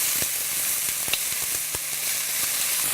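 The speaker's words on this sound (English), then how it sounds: "Now that the onions and peppers have been sauteing for a few minutes" Onions and peppers sizzle hard in an old, well-used wok, a bright continuous frying hiss with a few sharp taps and scrapes of stirring, close and steady.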